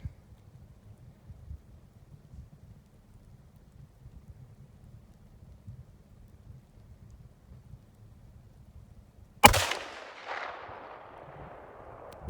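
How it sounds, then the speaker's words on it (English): A .300 Win Mag rifle fires one loud, close shot that cuts sharply through a low, quiet rumble and then trails off in a decaying echo. "So that was the first time she's ever shot that rifle"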